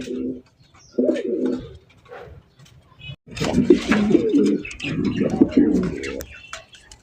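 Racing pigeons on a breeding farm coo in deep, throaty bursts, first a few short calls and then longer, louder rolling coos close by, with brief pauses between them.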